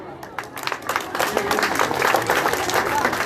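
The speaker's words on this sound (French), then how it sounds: "je vous prie d'applaudir" Audience applause at the inauguration of an MRC party house in Maroua, Cameroon: a crowd claps at moderate volume and the sound builds into steady, dense clapping over a few seconds, with voices mixed in.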